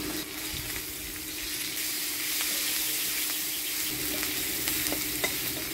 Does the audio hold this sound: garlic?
yes